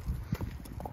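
Horse hooves clip-clopping at a walk on a stable yard, a few close, moderately loud steps in quick succession.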